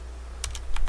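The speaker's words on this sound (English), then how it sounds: "If I can type" A handful of quick keystrokes tap on a computer keyboard, close and fairly faint over a low background hum.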